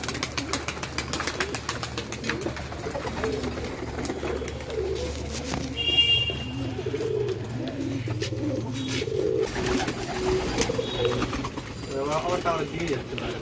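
Pigeons coo repeatedly at a pigeon farm in Nabadwip, overlapping low rolling calls from many birds, with occasional wing flaps and people talking nearby throughout.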